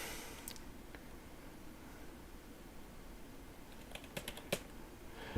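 A computer keyboard is tapped to enter a Wordle guess: a faint click early on, then a quick cluster of several soft keystrokes near the end, over a quiet hiss.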